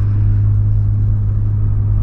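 A 2008 Volkswagen Polo drives along with a loud, steady low engine hum and road rumble from inside the cabin, with no change in pace.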